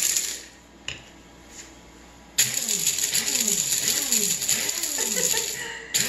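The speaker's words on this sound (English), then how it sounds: "Just put a few slices in there that were dry and pulse it." A food processor motor whirs in short pulses while chopping dried tomato slices, with a click and quiet clatter before the loud, steady whirring with rhythmic chopping kicks in.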